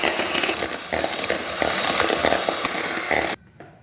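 An electric beater whips powdered sugar into vanilla sponge cake batter with a loud, buzzing motor whir and some rattling pulses. The whir cuts off abruptly near the end, leaving near silence.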